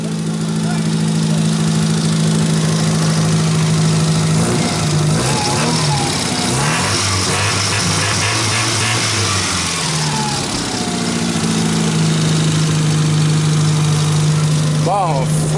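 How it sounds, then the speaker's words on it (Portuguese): A cheap auction car's engine idles loud and close, its steady drone rising into a few revs through the middle before settling back to an even idle, with voices heard briefly over it. "Ó o motor dele."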